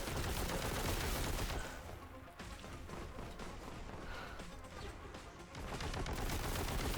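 Continuous heavy bolter fire from Warhammer 40,000: Boltgun, a dense, loud roar of rapid shots that dips briefly in the middle before surging again, with no talking over it.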